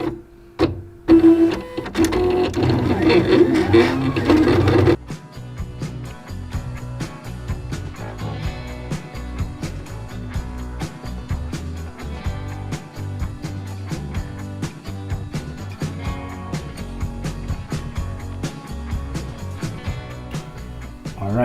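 A vinyl cutting machine runs along registration marks on a sheet, opening with a louder whirring motor burst, then settling into a steady mechanical hum with rapid ticking and stepping pulses that continue throughout, nearby and without talk.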